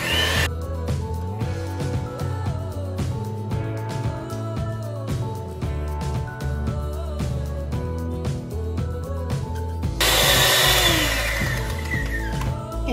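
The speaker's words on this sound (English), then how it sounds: "then let me use hand blender" An electric hand blender mixes cake batter in a home kitchen, giving a steady close motor hum with rhythmic clatter of the beaters against the bowl, rising to a louder, harsher whir near the end.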